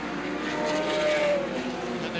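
Midget race cars with specially built racing engines roar together at Star Speedway, a steady loud engine drone that swells and fades as the pack passes, with tire noise underneath.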